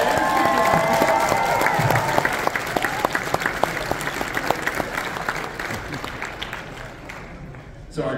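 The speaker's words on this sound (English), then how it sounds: "Can we get one more big round of applause for all of our kids cosplayers?" At a comic con costume contest, a crowd gives loud, sustained applause with some cheering for the kids in costume, slowly tapering off toward the end.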